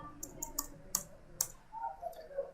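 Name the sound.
pressing the Enter key on a computer keyboard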